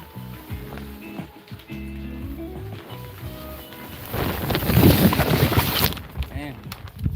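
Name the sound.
wind blowing plastic sheeting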